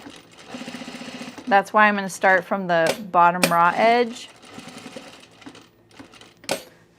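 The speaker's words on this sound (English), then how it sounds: "I'm gonna do a double needle stitch." A sewing machine runs a double needle stitch on a zip hoodie, a strong rapid mechanical whir in the opening seconds followed by a brief later burst, while someone talks over and between the stitching.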